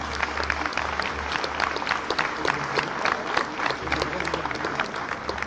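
Audience applause fills a French community event launch honoring the presidents of local social centres, a steady dense patter of many hands from a sizable crowd, moderately loud and continuous throughout.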